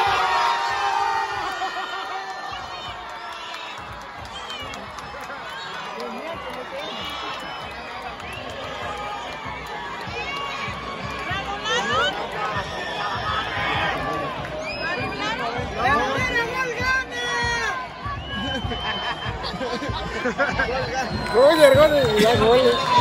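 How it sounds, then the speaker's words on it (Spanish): Pumas supporters at the Estadio Andrés Quintana Roo in Cancún, during a Liga de Expansión football match against Cancún FC, shout and cheer a goal, a crowd roar that swells toward the end, with chanting and nearby voices talking over it. "Por fin la afición de los Pumas gritó gol aquí en el estadio Andrés Quintana Roo."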